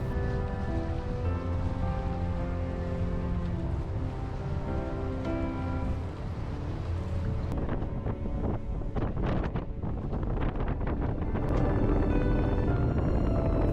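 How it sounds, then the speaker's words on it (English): Ocean waves break on both sides of a reef pass in French Polynesia while a sailboat heads out, a steady roar of surf mixed with heavy wind buffeting the microphone throughout. "Getting out of Pass Pai Pai with breaking waves on both sides was an amazing experience."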